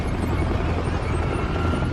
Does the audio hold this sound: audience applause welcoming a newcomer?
no